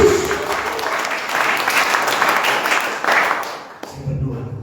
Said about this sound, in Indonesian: Berikan tepuk tangan yang meriah kepada Tuhan Yesus.